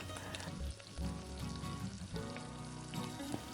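Steady sizzling of bay leaf and half a spoon of cumin seeds frying in hot oil, close and continuous, with a few small crackles.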